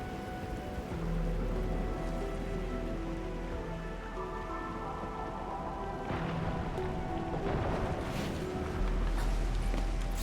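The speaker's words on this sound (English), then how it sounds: "It's raining harder. I can't hear anything except for the rain." Heavy rain pours steadily in a video game scene, a dense continuous hiss of drops on surfaces with brief faint knocks, loud throughout.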